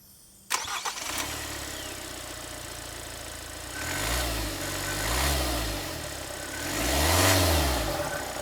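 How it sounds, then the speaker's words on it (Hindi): A Kia Seltos diesel SUV fires up with an abrupt start, settles into a steady idle, then pulls away in traffic with several rising and falling engine surges, the clattering diesel rumble heard close up. "ट्रैफिक में चलाओगे डीजल गाड़ी को तो ऐसे चलेगी।"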